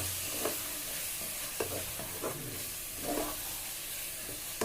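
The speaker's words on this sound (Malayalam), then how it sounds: "ഇത് ഞാൻ എണ്ണയിലിട്ടിട്ട് ഇത് തക്കാളിയിലിട്ടൊന്നും ഇങ്ങനെ വഴറ്റാണ്." Tomatoes sauté in oil in a home kitchen pan with a soft continuous sizzle, broken by a few distinct stirring scrapes.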